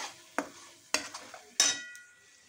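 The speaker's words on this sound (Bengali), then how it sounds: "সব কিছুকে নাড়িয়ে চাড়িয়ে খুব ভালো করে মশলাটাকে কষিয়ে নেব।" Spice masala for a raw jackfruit rezala is stirred in a pan: three distinct scraping strokes against the metal, each followed by a faint fading sizzle, close and quiet without speech.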